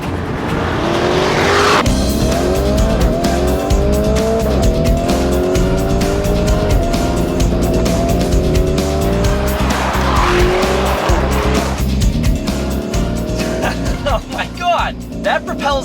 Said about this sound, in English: This is the 4-liter twin turbocharged V8, producing a staggering 641 horsepower and 627 foot-pounds of torque.